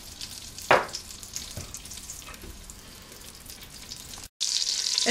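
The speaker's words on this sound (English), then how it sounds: "Melt butter and olive oil inside saucepan." Butter and olive oil melt and sizzle in a saucepan for ham and potato soup, a steady close frying hiss with a few sharp clatters, then a louder rush like running water near the end.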